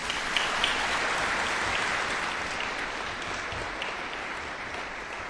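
An audience applauds after a speech at a formal event, a dense, steady clapping that fills the room from start to finish without any talk.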